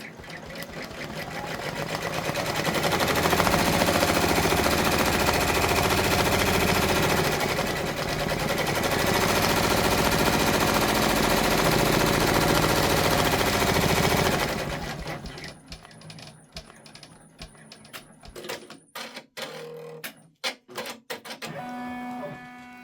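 An embroidery machine sews a placement stitch for orange pumpkin pieces on a freestanding quilt block, a loud rapid steady rattle that gives way to sparse clicks and stops.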